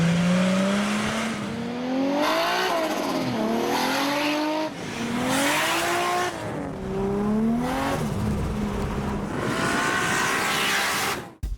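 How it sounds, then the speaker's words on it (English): A 3-litre car engine with a GT35 turbo on a custom manifold and 38mm external wastegate revs repeatedly, rising and falling in loud, close pulls with no talk over it. "A GT35 turbo sits on a custom manifold with a 38mm external gate and sounds awesome."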